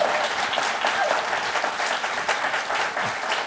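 An audience applauds a guest at an Innovative Lives speaker event, producing a dense, even wash of clapping that holds for a few seconds.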